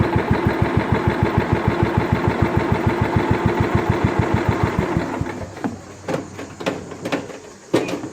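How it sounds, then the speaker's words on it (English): Scotts lawn tractor engine idling close by, a steady rapid low thumping for about five seconds, then cutting off into quieter scattered knocks and clatter. "Now I'm going to let it idle for a short period of time, so when I turn it off it doesn't backfire."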